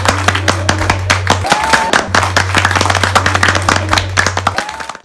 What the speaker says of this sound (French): applaudissez, s'il te plaît